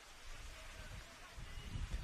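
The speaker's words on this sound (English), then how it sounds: "Is that rain gushing down?" Heavy rain pours down steadily at an outdoor football match in Sydney, a dense continuous hiss with a low rumble and no clear voices.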